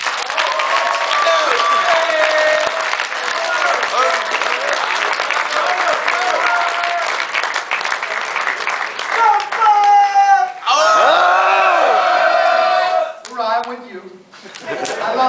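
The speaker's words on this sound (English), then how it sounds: "please give yourselves a round of applause" A crowd of Marines gives themselves a long round of applause, dense sustained clapping mixed with cheers, whoops and chuckles that swells and dips, with scattered voices calling out near the end as it tapers off.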